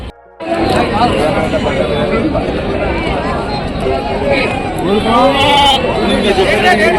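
Goats at a busy weekly goat market bleat loudly and repeatedly over a dense crowd of chattering buyers and sellers, the calls rising close by above the steady din.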